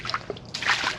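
Swamp boots sloshing through shallow water in woods, two or three quick splashy steps close to the microphone, soft and brief.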